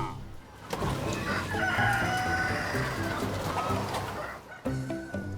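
A flock of hungry chickens on a farm clucks and squawks loudly and continuously, many birds overlapping close by, with a brief lull near the end.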